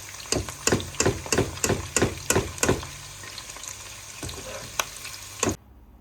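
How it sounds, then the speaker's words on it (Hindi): Chillies and onions frying in oil for a taro root and capsicum dish, with a run of regular scraping, stirring strikes over a steady low sizzle, then a few sparser stirs before stopping. "ये देखें जी, मिर्ची और प्याज भी हमने फ्राई कर लिया है।"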